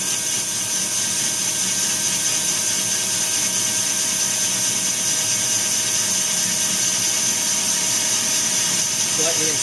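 Metal lathe turning at about 270 RPM while cutting a nut housing for a Harrison mill restoration, a steady loud machine whine and hum with an even, unbroken cutting drone throughout.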